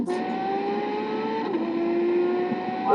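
A loud car engine held at high revs sounds like a race car, whining steadily near the listener and dipping briefly midway before climbing again.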